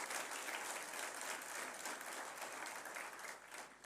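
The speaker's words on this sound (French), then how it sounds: "Vous pouvez l'applaudir." An audience at an Eric Zemmour political rally in Valence gives a continuous wash of clapping. It sounds faint and distant throughout, with no clear breaks.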